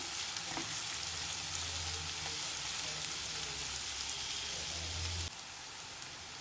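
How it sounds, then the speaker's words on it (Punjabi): Onions frying in a pan for a spicy taro curry, a steady close sizzle with a low bubbling undertone that holds for about five seconds, then drops off to quieter hiss near the end. "ਪਿਆਜ਼ਾਂ ਨੂੰ ਭੁੰਨ ਲਾਂਗੇ"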